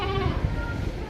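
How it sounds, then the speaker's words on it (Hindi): A goat being dragged on a rope by a man bleats in a short, wavering cry that rises over a background of outdoor noise and faint voices. "अभी इसको खींच रहा है वो बकरा"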